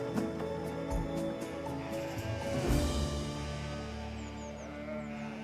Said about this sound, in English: those cries we can hear are the bleating of sheep and not the anguish of artists